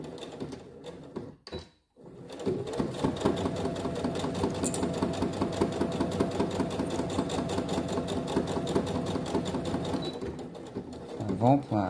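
A sewing machine stitches a fabric pouch close to the edge, running with a continuous rapid mechanical chatter for most of the time after a short pause near the start, with a voice talking over it.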